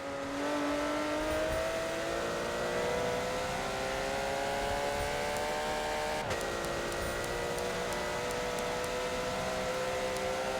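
Several Porsche GT3 race cars in a racing video game, running side by side on the Indy GP circuit. Loud, steady engine drone with rising pitch and a sharp gear shift partway through, with no voices.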